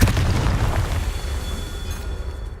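Confringo fire-blast spell cast in Hogwarts Legacy on Xbox Series X, a deep booming explosion that rumbles loudly at the start and then rolls on as a sustained low roar, with no talking.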